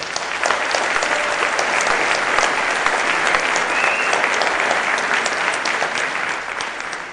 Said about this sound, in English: I'd like to ask for a round of applause